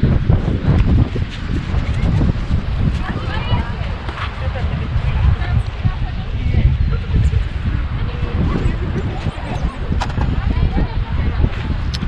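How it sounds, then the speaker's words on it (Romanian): Wind blows at the Black Sea shore, a loud, gusty rumble buffeting the microphone throughout, with a person talking over it now and then. "Când am venit la pește, a început să bate vântul."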